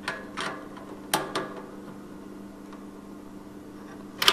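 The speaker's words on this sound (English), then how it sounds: "Watch the needle move as I tighten this nut." A drum lug nut is tightened on a banjo head with a drum tuning gauge, a few sharp ratcheting clicks and ticks in short bursts against a quiet room hum, close up.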